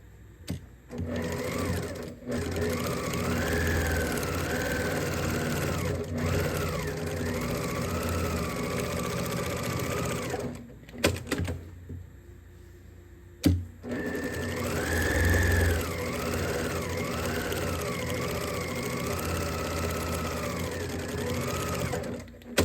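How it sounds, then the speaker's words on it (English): A sewing machine stitching down the seams of a fabric zippered bag, a steady fast mechanical whir in long runs, pausing briefly before starting again. "I will go to the machine and stitch down one side and stitch down the other"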